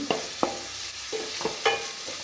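Chopped onion and green chillies fry in a pan for a carrot stir-fry under a soft steady sizzle, punctuated by a few sharp knocks of a spatula stirring against the pan.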